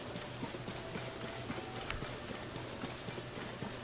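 Horses' hooves clip-clopping in a steady rhythm in the video game Zelda: Tears of the Kingdom, over a constant, noisy background hum, with no voices.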